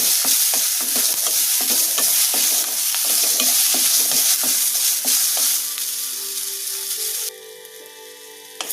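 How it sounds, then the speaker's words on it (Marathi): Garlic cloves sizzle in a little oil in a pan, stirred with scraping clinks over a steady frying hiss that drops off abruptly near the end, close and without speech. "थोडंसं तेल घालते आणि याला सुद्धा आपण छान गुलाबी रंगावर परतून घेऊ"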